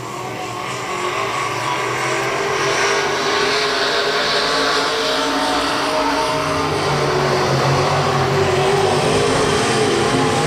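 Three dirt-track race cars circle Electric City Speedway in Butler, Missouri, during a heat race. Their engines make a sustained, droning roar that builds steadily louder as they come closer, with no voices over it.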